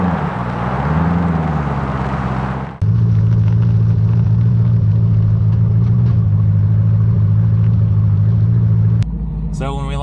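A drag car with a TH400 transmission backs up into its tracks. Its engine holds a loud, steady, deep rumble that shifts in tone partway through, then drops back near the end.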